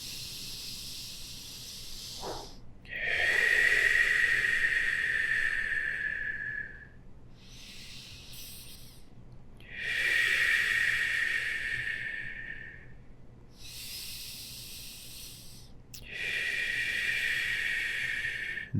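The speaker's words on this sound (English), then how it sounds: "With your exhale, breathe it all the way out." Deep yoga breathing during a full-body warm-up: three long, airy breaths, each lasting several seconds, with quiet pauses between them. They sound close and soft, with no talking.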